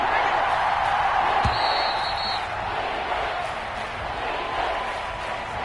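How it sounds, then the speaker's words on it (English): Steady crowd roar in an American football video game on PS4 as a big third down approaches, a continuous wash of stadium noise with a brief thump and a short whistle-like tone partway through. "The crowd getting into it as we come up on a big 3rd down."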